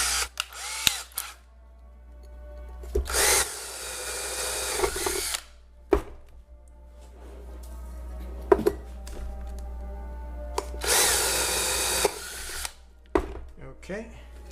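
A power drill fitted with a 1/8 bit bores into a pedalboard in two loud, close bursts of a couple of seconds each, with clicks, handling knocks and a low steady hum between them.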